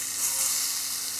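Chopped red onion sizzling in nearly half a stick of melted butter in a pan, a steady close crackling hiss that runs on without pause and with no voices.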